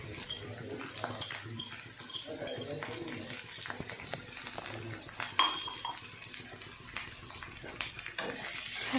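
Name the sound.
mixing vedailota fish curry in a pan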